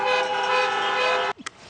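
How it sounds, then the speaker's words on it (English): A car horn honks at a drive-in rally for a United States Senate candidate, one loud steady blast held for over a second, then cut off, followed by a couple of brief faint toots. "honk for your next United States Senator, John Ossoff."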